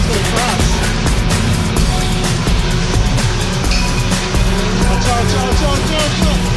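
Racing video game cars skid and squeal their tires over a loud, continuous engine roar, with excited voices talking over the action throughout.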